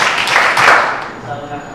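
A school class claps in a short burst, a loud cluster of hand claps early on that quickly fades, followed by a teacher's voice speaking.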